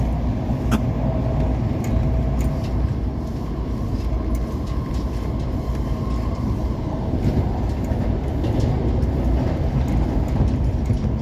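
Steady interior rumble of a moving WMATA Breda 2000/3000-series Orange Line metro car, a continuous low roar of wheels and motors with faint rattles and squeaks, no voices.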